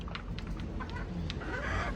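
Hens and pullets kept for local and national breeding, including Sweater McLean and Hatch birds, cluck softly in short scattered calls over steady farmyard background noise.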